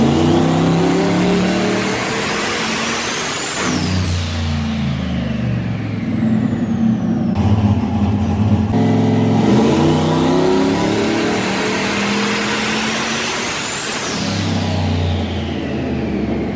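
A big-turbo Camaro engine revs hard in repeated loud low-boost pulls on a dyno, pitch sweeping up then dropping, with a pause between runs; no talking.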